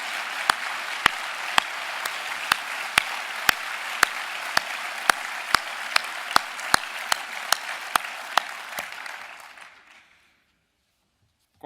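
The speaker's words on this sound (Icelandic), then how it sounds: "Má ég ekki bara biðja gott klapp fyrir þessa öflugu ráðherra sem við eigum." An audience at a political party national congress applauds its ministers, a broad sustained wash of clapping punctuated by sharp, evenly timed rhythmic claps, which fades out and stops near the end.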